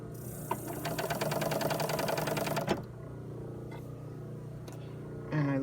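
A sewing machine running a blind stitch in a fast rhythmic mechanical clatter for nearly three seconds, then stopping, leaving quiet handling noises and a brief clunk near the end.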